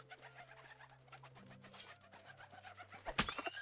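Pigeons coo in the video game Medieval Dynasty, soft repeated calls set against a low steady ambient drone, ending in a sharp louder burst near the close.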